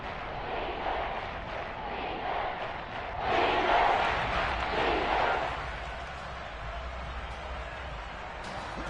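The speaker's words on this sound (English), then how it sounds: "The crowd getting into it as we come up on big third down." Stadium crowd noise from a Madden 23 American football video game rising ahead of a big third down, a broad steady roar that swells for a couple of seconds mid-clip before settling back to a constant din.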